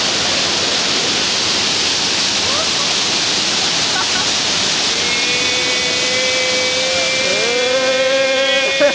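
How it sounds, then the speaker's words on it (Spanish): A waterfall on a river in Pai, Thailand pours as a loud, constant roar of rushing water that stays even throughout. A single tonal whine rises above it near the end. "La cascada."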